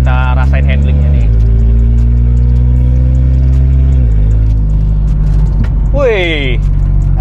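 A VW Scirocco R with all-wheel drive and a heavily tuned engine of around 800 hp accelerates at full throttle from inside the cabin. Its loud engine roar climbs through the revs, with two gear changes and a sharp burst near the end.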